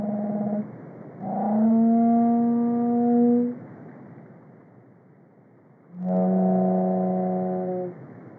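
Pygmy blue whale calls sped up roughly tenfold, heard as two long, loud tonal moans with stacked harmonics, separated by a quieter gap, alone with no talk.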